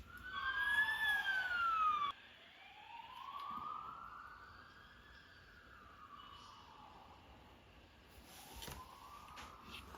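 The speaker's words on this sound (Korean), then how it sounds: "그리고 사이렌 기능도 있는데요. 경찰차와 같은 조명과 사운드를 들려주는 기능입니다." A police-style siren plays through the speaker of a Unihertz Tank 2 rugged smartphone, rising and falling in slow wailing sweeps. It starts louder, then continues more faintly at close range.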